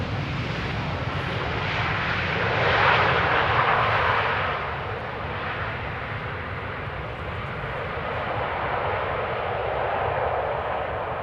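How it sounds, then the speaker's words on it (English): KLM Boeing 737-800 arriving on the Polderbaan runway at Amsterdam Schiphol, a broad jet engine roar that swells around the third second and then holds as a steady distant rumble. "This is KLM flight 1074 arriving from Manchester, 737-800"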